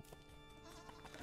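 A goat in the game Creaks gives a short, wavering bleat, clear and close over a quiet musical background.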